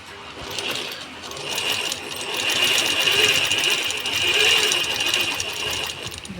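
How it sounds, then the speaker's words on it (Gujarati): A sewing machine stitches a kurti in a steady, close, continuous whirring hum that swells and eases slightly as the speed changes, with no talking. "કુર્તીમાં કામ ચાલુ કરી દીધું છે"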